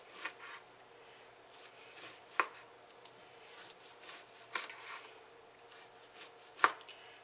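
A knife cuts leftover meatloaf into cubes on a board, soft repeated slicing strokes with a few sharper taps, quiet and close with no talk.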